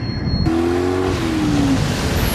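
A 2023 Toyota Tundra truck engine in a TV commercial, a loud sudden low rumble that cuts in after a quiet start, then a sustained growl with a sliding tone as it revs past, close and alone.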